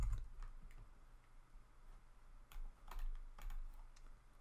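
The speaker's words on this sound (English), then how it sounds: "Then I'm just going to press the delete button on the keyboard," Keys pressed on a computer keyboard, a handful of soft separate clicks scattered over a few seconds, close and quiet with no talk.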